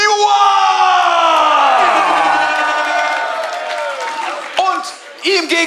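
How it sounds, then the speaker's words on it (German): Audience at a freestyle rap battle final in Berlin, loud cheering and whooping from the crowd mixed with applause, a sustained roar that fades, followed by scattered shouts near the end. "Als erstes bitte einen riesen Applaus für Yua!"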